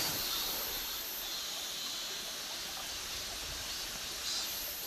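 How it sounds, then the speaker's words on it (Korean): A mountain stream flows steadily beside a riverside campsite in a Gangwon valley, a soft continuous rush of water with a broad hiss, moderately distant and unbroken for the whole stretch, with no voices over it. "물소리 알람에 저절로 눈이 떠집니다"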